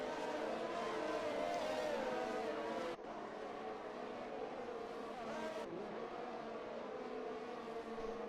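Formula 1 race cars scream through an off-camber corner at the Italian Grand Prix in the F1 2021 video game. Several high-pitched engines wail and shift close by, with a sharp cut midway through.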